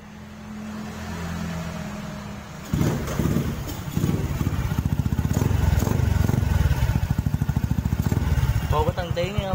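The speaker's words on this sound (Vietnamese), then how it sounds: "chờ nghe tiếng cho bạn nghe tiếng bô lại nha" A Honda 67 SS50 motorcycle's exhaust barks to life after a quiet moment and revs loudly up close with rapid, throbbing firing pulses that rise and fall, while a voice speaks over it.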